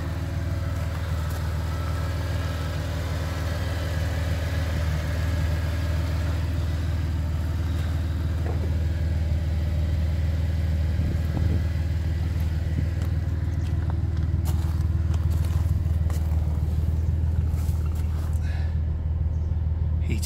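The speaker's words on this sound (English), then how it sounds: "Car has a full stainless steel cat-back exhaust system," A 2006 Audi A4 3.2 FSI S-Line Quattro with a full stainless steel cat-back exhaust idles with a low, steady hum for about twenty seconds, with a few faint clicks and knocks near the end.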